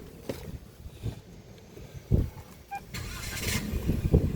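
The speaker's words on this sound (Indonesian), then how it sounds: "Yuk coba kita nyalakan mobilnya." A 2021 Toyota Raize 1.0 GR Sport turns over and fires up with a short cranking burst, then settles into a low, steady idle rumble close by.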